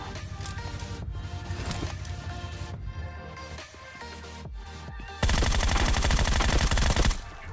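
Loud gunfire in the video game PUBG Mobile, rapid bursts of automatic shots over game music and effects, then a dense, noisy roar of sustained fire in the final seconds.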